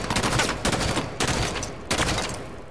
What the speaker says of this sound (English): Which sounds like that, because I'm shooting it against a wall